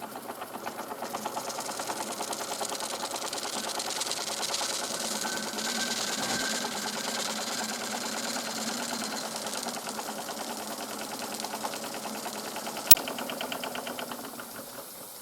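A Märklin toy steam engine, fired by both burners and driving a generator, runs with a steady rapid mechanical chatter and hum throughout, close and even, with one sharp click near the end.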